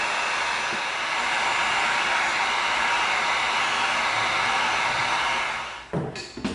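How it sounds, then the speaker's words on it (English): A heat gun blowing on EVA foam gives a loud, steady airy whoosh held close for about six seconds before cutting off, followed by a few brief handling knocks. "Bring in our heat gun."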